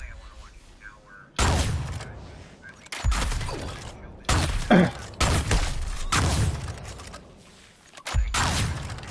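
A shotgun fires in the Suicide Squad game with a slow cadence: roughly half a dozen heavy, loud booming blasts spaced a second or more apart. Voices chat during the shots.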